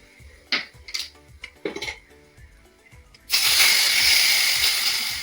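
A few metal utensil clinks come first, then whole red chilies hit hot ghee for a kadhi pakora tadka and a sudden loud, sustained sizzling hiss takes over and continues to the end.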